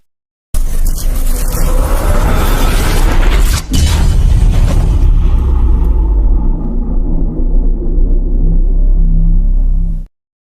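A huge explosion sound effect erupts in an audio drama, a loud deep booming rumble with a sharp crack a few seconds in, then a long throbbing low roar that fades before cutting off.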